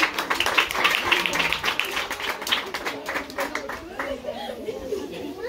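Lively applause at a Mother's Day celebration in a rural school in Joyabaj, many hands clapping rapidly and steadily for several seconds before fading, with chatter and laughter mixed in and a voice speaking as it ends.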